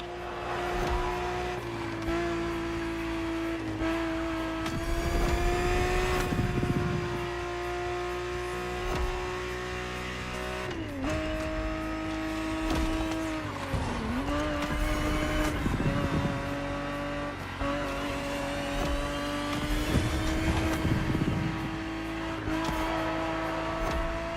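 A powerful car races at high speed in the video game The Crew Motorfest, its engine droning loud and steady with pitch dips and climbs through gear shifts and curves, and bursts of rushing noise, with no voices.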